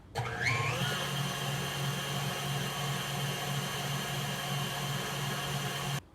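An electric mixer on medium-high speed beats cake batter for a raspberry Swiss roll, with melted butter and vanilla being streamed in. It whirs steadily and fairly quietly, ramping up at the start and stopping abruptly at the end.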